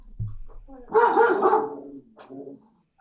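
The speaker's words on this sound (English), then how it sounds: "We heard the dogs barking." Dogs barking close to the microphone, a short cluster of loud barks followed by a softer yip, with a brief voice at the start.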